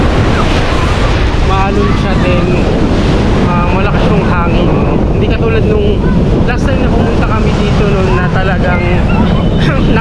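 Strong wind buffets loudly against the microphone over the roar of rough, churning sea off Burias Island, continuous and close, with faint voices underneath.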